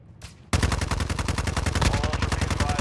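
Rapid automatic gunfire bursts out after a brief quiet moment and keeps firing in a dense, continuous rattle, loud and close, during a DMZ video game match.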